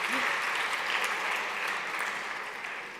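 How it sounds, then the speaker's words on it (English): A main-stage audience at a tech and startup event applauds the ten finalists, a dense, steady wash of many hands clapping that stays loud throughout and eases slightly toward the end. "Everybody clap for the 10 finalists"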